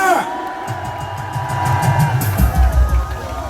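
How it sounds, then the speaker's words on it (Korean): A crowd at an outdoor political rally in Gwanghwamun, Seoul, sends up cheers, whoops and shouts that build over several seconds. A voice runs underneath the crowd noise. "박수 한번 주시죠."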